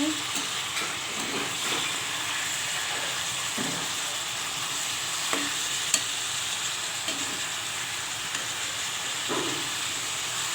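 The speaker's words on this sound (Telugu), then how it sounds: "ఇవన్నీ వేసాక ఒకసారి కలుపుకుందాము" Garlic cloves, coriander seeds and cumin being stirred in a pan for ridge gourd chutney, a steady soft sizzle with occasional spoon scrapes and taps against the pan, close and unbroken for the whole stretch, with no talking.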